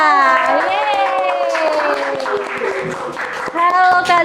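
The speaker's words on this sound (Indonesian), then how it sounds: "tepuk tangan yang meriah, Kak Azahra" An audience applauds and cheers at an Indonesian student pageant event as a guest is welcomed, the steady clapping running under loud music and a speaking host.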